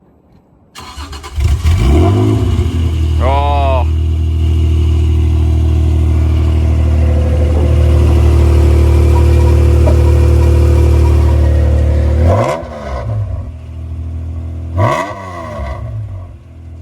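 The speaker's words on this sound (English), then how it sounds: "Let's get a cold start on this thing." A Nissan GT-R engine cold-starts, cranking and firing up with a loud rev, then settles into a steady, deep rumbling idle, with a couple of sharp throttle blips near the end.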